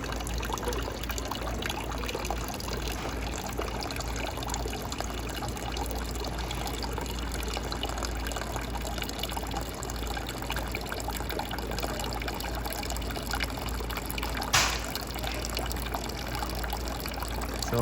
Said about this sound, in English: then the water should be going into your bucket